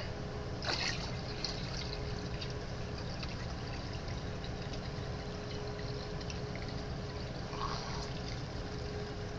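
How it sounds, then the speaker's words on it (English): Water trickles and pours steadily as the filter of a saltwater Eheim Aquastyle aquarium starts up after the tank is refilled, a continuous close liquid burble with no talk over it. "And there goes the filter."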